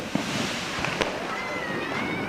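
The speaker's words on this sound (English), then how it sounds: "it wouldn't be an explosion soundboard without some 4th of July fireworks" Fourth of July fireworks from an explosion soundboard: a dense crackling fizz runs throughout, punctuated by several sharp bangs and a thin rising whistle near the end, with faint background voices.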